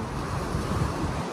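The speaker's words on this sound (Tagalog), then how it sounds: "Sa ngayon kasi malakas ang alon, malakas ang hangin" Strong waves and gusty wind at Manila Bay's Dolomite Beach make a loud, continuous roar of surf, with wind buffeting the microphone throughout.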